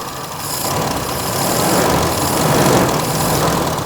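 A motorcycle engine idles unevenly while its carburetor air screw is being adjusted, a steady close mechanical drone with a slight wavering pulse throughout.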